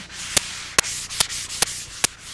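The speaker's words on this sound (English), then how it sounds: "we need to pre-sand just to give it a smooth finish" Steady scratchy sanding of a wooden console table, a continuous rasp punctuated by five sharp, evenly spaced louder strokes, close and alone.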